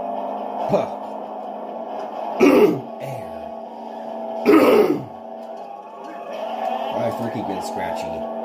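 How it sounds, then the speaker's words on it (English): Someone clears their throat a few times, irritated by allergies, with two or three short rough bursts standing out over steady background noise, and a low murmur of talk in between. "Sorry, I keep freaking trying to clear my throat."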